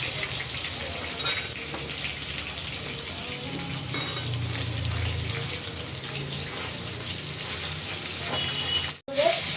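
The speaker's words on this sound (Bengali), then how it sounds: "পটলগুলো আমি ভাজতে দিলাম।" Pointed gourd frying in hot oil, with a continuous close sizzle and crackle. Splashy bursts and a brief dropout occur near the end, suggesting pieces landing in the pan.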